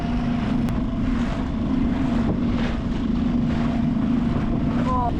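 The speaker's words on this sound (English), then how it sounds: "we have to put the engine on" Outboard engine of a 28 ft sailboat's dinghy running out on the Mediterranean, a steady loud drone with rough low rumble and wind and water noise throughout, with a voice chirping briefly near the end.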